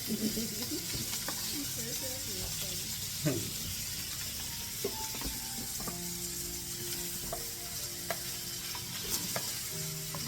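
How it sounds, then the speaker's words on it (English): Food sizzles steadily in a hot pan while cooking spaghetti, a constant crackling hiss punctuated by clinks and scrapes of stirring utensils. "we'll just give that a quick sizzle in there"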